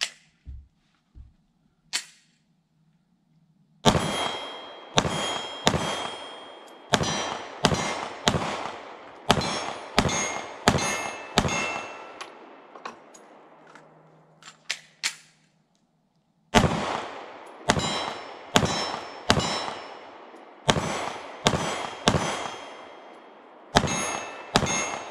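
A Springfield Armory Hellcat Pro 9mm pistol fires at steel targets about 15 yards away outdoors, with sharp, close shots in quick strings and pauses. Each shot is followed by a ringing clang of metal, and no one speaks.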